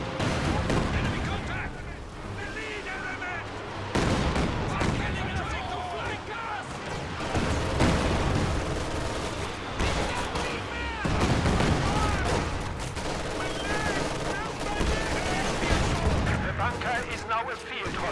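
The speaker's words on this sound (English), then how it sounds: "Katusha firing now" Katyusha rocket artillery barrages in a strategy video game, dense booming and crackling salvos rolling continuously over a busy battle soundscape, with commentary talking over the top.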